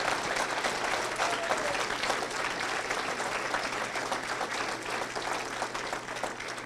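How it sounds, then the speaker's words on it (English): An audience at a school hall of fame induction dinner gives a sustained, even round of applause, a dense steady clatter of many hands heard from a distance over a faint low hum. "could I have another round of applause for these most deserving 2019 inductees?"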